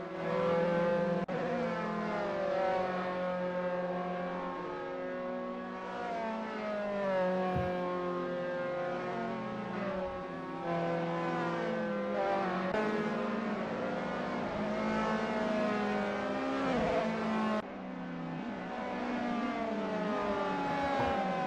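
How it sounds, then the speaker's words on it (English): Formula 3 race cars leaving the pits in a racing video game at a virtual Silverstone, several engines whining and revving together in a continuous layered drone with rising and falling pitch, loud and steady with no talk. "Here we can see some cars leaving the pits right now."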